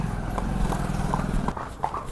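Horses out on a ride walk along steadily, their hooves clip-clopping in an even, close rhythm over a low background rumble.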